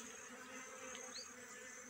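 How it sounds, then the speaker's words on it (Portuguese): European honeybees forage for nectar and pollinate among coffee plants on a farm. Their faint, steady buzzing drones on without a break, with no talk over it. "Tá cheio de abelha."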